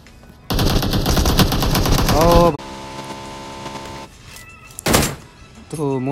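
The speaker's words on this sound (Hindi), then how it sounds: "कौशल ने शॉट लिया जस्ट मैनिक को, जस्ट मैनिक को फिनिश भी कर दिया।" Rapid bursts of automatic gunfire in a battle royale video game, loud and dense for a couple of seconds, followed by single sharp shots and a brief thud, with an excited commentator speaking over the action.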